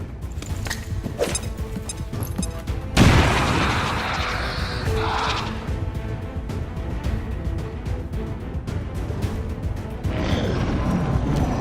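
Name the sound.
grenade explosion in the video game XCOM 2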